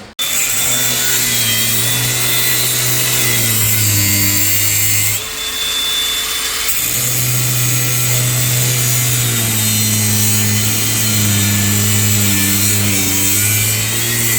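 A power saw cuts steadily through a Seat Leon 2.0 TDI exhaust pipe in a workshop, a loud continuous whining drone with a brief break in the middle before resuming at full strength.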